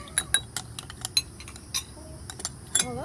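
A passion fruit and ice cube being crushed and stirred in a glass for a bourbon drink: quiet, irregular clinks and taps of a utensil against glass, with small crunches, close by.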